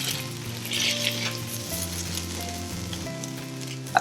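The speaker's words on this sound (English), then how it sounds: "you're going to get a lot of sizzling here because a lot of the juices from this quesadilla are going to be coming out" A kimchi quesadilla fries on an oiled hot plate, giving a steady close sizzle with soft crackles and a faint scrape of a utensil near the end.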